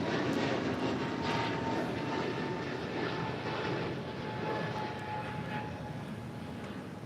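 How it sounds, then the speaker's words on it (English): A Boeing 787-10 Dreamliner jet takes off from an airport runway with a broad roaring rumble that stays steady and then slowly fades, heard from some distance. "United Airlines Flight 1897 heading to Chicago O'Hare in a 787-10 Dreamliner."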